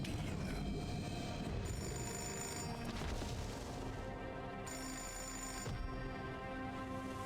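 Telephone ringing in the Fahrenheit video game, a repeating bell tone that keeps sounding over dense game sound and low rumbling, with no speech.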